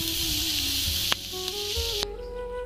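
Butter sizzles steadily in a hot kadai on the stove, a bright continuous hiss with a few sharp clicks and small pops breaking through.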